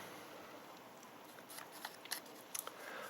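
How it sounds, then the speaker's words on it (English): A folded dollar bill is creased down for an origami peacock, giving faint, crisp paper crinkles and a few sharp clicks in the last second and a half against a quiet background. "and then I'm going to crease that down"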